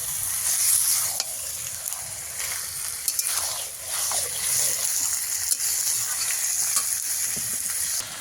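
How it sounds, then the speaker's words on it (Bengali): Water poured into a hot pan of sizzling Bengali-style chicken masala, a continuous bright hiss and crackle with brief gushes and stirring scrapes, close and fairly loud with no talking. "সঙ্গে সঙ্গে তার মধ্যে জল ঢেলে দিলে"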